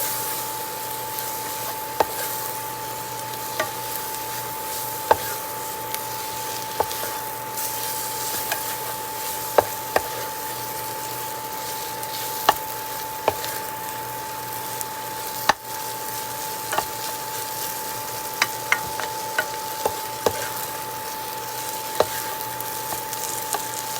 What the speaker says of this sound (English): We're just going to stir this up and let it go for about a minute.